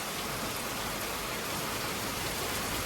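Heavy rain falls steadily, a dense, even hiss of drops striking surfaces close by, continuous and unbroken with no voices.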